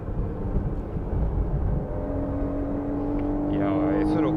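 A Honda S660 with a bolt-on turbo drones steadily and builds in pitch as it accelerates on a mountain pass, loud and close, with a whooshing turbo hiss near the end.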